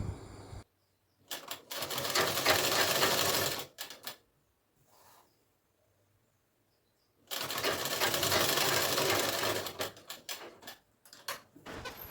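Sewing machine stitching around the folded hem of a kaftan in two long, close bursts of fast mechanical rattling, separated by a few short stitch runs and quiet pauses.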